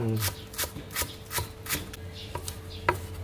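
A knife slices shallots against a chopping board in sharp, fairly regular strokes, close by, with a low hum in the background.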